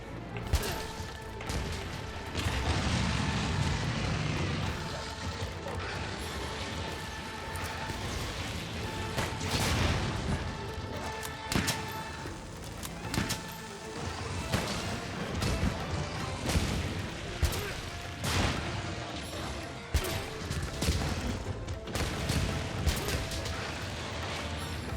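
Repeated explosive blasts from a fire-breathing monster in the game Monster Hunter Rise: Sunbreak, booming and crashing loudly in close succession over a dense, continuous battle din.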